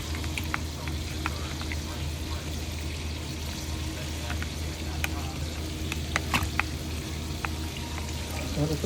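Potatoes frying in a big hot pan, a continuous close sizzle with scattered clicks and scrapes from stirring throughout.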